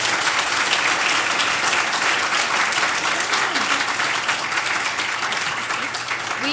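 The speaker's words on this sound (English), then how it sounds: "how about a round of applause for Pamela and Janice?" Sustained, dense audience applause fills the room at the close of a presentation on a Raspberry Pi prototype project, steady and loud throughout with no break.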